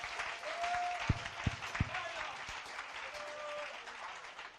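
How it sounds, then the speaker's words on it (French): Applause from a church congregation at a minister's ordination service, a soft continuous patter of many hands at a distance, with a few low thumps and a faint voice underneath. "Applaudissons le Seigneur pour cela."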